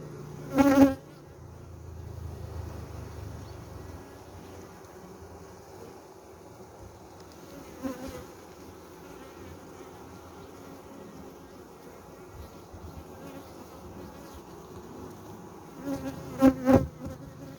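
Honeybees drone in a soft, continuous hum near a hive, with a few louder buzzes as insects pass close by the microphone.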